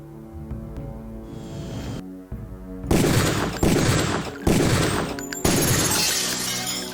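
Gunfire in the video game Deus Ex: a quiet stretch of background music gives way to four loud, sharp shots spaced roughly a second apart, each with a short crashing decay.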